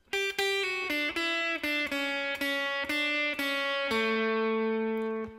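A guitar plays a solo as a string of clear, evenly picked single notes, ending on a longer sustained note. It sounds close and clean, with no speech.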